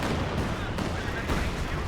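An artillery barrage in a real-time strategy game lands as a dense, continuous roll of booming explosions and rumbling impacts, loud and unbroken throughout.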